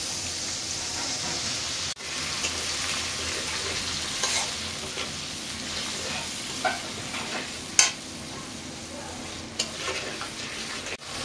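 Spice masala with chilli, salt, turmeric and water sautéing in a pan, a constant crackling sizzle with occasional utensil scrapes and clicks as it is stirred, no talking.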